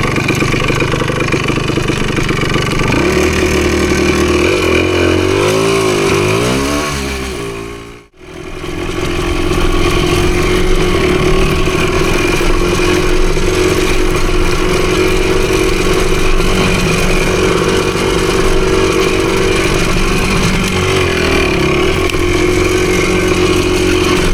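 A PE250 dirt bike engine idles loudly and steadily nearby, its pitch rising and wavering briefly as the idle is raised, then cutting out for a moment before settling back into a constant rough drone.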